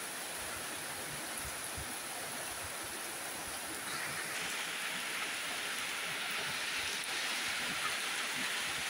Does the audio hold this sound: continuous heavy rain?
yes